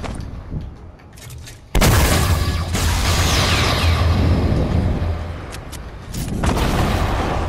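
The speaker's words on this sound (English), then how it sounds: "Who's throwing nades?" Grenade explosions in the video game Fortnite: a sudden heavy blast followed by a long rumbling roar, then a second burst later, loud and close against quieter game noise, with no talking.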